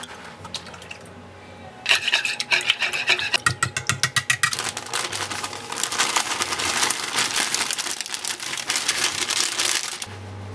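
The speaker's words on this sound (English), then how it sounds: "So whisk together the eggs." Eggs whisked together in a bowl for peppermint chocolate cake balls: quick rhythmic scraping strokes, then a steadier, busier rattling and swishing that continues close by with no talk.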